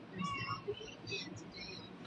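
A house cat meows faintly indoors, a few thin, high mewing calls over a low background murmur.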